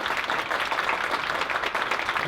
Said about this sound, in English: One more big round of applause for our student complaints.